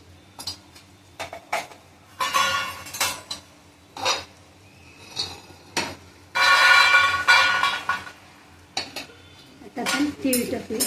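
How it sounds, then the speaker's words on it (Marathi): Roasted peanuts are scooped out of a pan onto a plate in bursts of rattling, clattering scrapes and metallic clinks separated by short quiet gaps, close and fairly loud. "आता शेंगदाणे भाजत आले, त्यांना काढून घेते ताटामध्ये"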